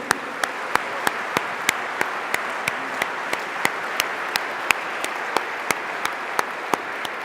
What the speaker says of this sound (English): let us put hands together to give a resounding applause to His Holiness